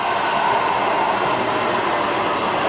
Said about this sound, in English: the subway, except it's not below ground right now, it's above ground.